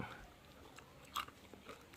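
Roasted June beetles, a northern Thai snack, crunch faintly between the teeth in a quiet setting, with one sharper crunch in the middle and softer crackles scattered around it.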